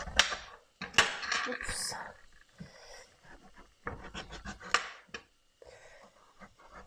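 A knife slices squash into pieces on a board, giving several sharp cutting clacks in irregular bursts, close up, with a short spoken exclamation between them.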